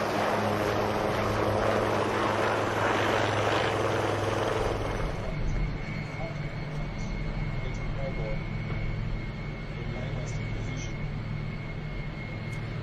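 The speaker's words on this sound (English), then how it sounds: "These are Hal Dhruv helicopters" HAL Dhruv helicopters flying a formation display at the Royal International Air Tattoo, a broad steady rotor and engine roar that is loud at first and eases to a lower sustained drone, with no talk.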